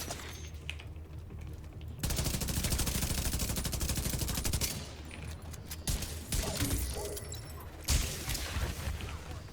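An automated gun turret in Division 2 lets off rapid bursts of gunfire at enemies, a sustained rattling volley followed by scattered shots and impacts at moderate distance.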